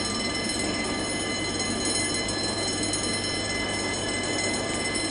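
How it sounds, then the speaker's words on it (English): A Greater Anglia train at Ipswich station makes a loud, steady rumble of wheels on track, with a faint wheel squeal running through it and no voices. "The train at platform 4 is the 1552 Greater Anglia service to London."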